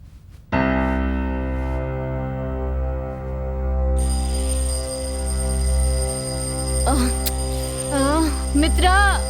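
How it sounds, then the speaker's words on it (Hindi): A continuous electronic alarm rings loudly and steadily from start to finish in a dubbed South Indian horror thriller, with someone speaking over it in the final seconds. "अलार्म बज रहा है।"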